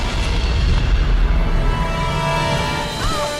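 A heavy explosion in the Tomb Raider video game, a loud deep boom that rolls into a long rumbling decay with faint tonal game sounds over the tail.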